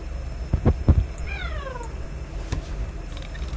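A cat meows in The Baby in Yellow, a drawn-out descending call lasting about half a second, heard clearly over footsteps or thumps and a low game background hum.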